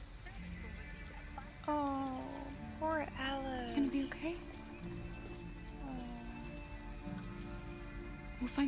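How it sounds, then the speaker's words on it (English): Steady rain falling in the game Detroit: Become Human, a soft continuous patter under in-game speech and music. "The rain looks so pretty in this game."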